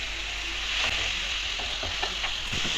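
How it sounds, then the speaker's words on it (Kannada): Chopped tomato stirred and fried in hot oil in a pan for chicken masala: a steady, close sizzle with scraping spoon strokes, and no voices. "ಇದಕ್ಕೆ ನಾನು ಕಟ್ ಮಾಡ್ಕೊಂಡಿರುವಂತಹ ಟೊಮ್ಯಾಟೋನ ಹಾಕ್ತಾಯಿದ್ದೀನಿ ಮತ್ತು ಇದನ್ನು ಚೆನ್ನಾಗಿ ತಿರ್ಸ್ಕೋಬೇಕು"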